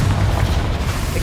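Spell explosions from Bombarda and Confringo in Hogwarts Legacy: a deep, rumbling boom that stays loud and heavy in the low end for the whole short moment.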